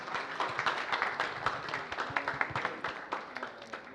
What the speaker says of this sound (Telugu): గట్టిగా ఒక్కసారి శశి గారి కోసం క్లాప్స్ అండి.